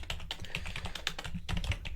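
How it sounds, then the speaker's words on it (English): Steady typing on a computer keyboard with irregular clusters of key clicks and taps, close and quiet, with no talking. "I'm just typing these in."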